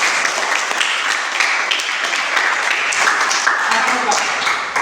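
Classroom applause for a classmate during a teaching session, a steady dense patter of many hands clapping throughout, fairly loud and continuous, with some voices mixed in.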